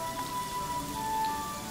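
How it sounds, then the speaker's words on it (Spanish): Steady rain falling on an afternoon in a city neighbourhood, an even continuous patter and hiss with no break, heard alone. "La lluvia"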